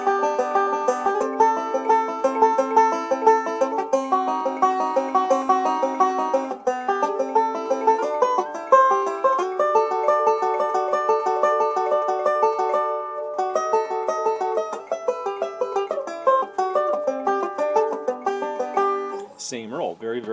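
A fingerpicked string instrument plays a thumb-lead backward roll over bluegrass-style chord changes, with a steady, even rolling pattern of bright plucked notes throughout and a brief different sound at the very end.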